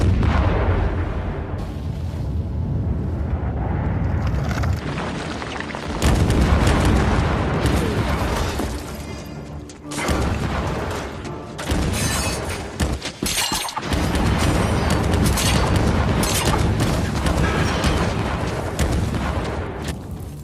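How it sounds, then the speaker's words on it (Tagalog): Landmine bombs detonate in a war movie scene with Serbian soldiers, loud booming blasts and shattering debris repeating across twenty seconds, dense and heavy with brief dips between explosions. "napilitan siyang galawin ang isa sa mga wire dahilan upang sumabog ang mga bomba"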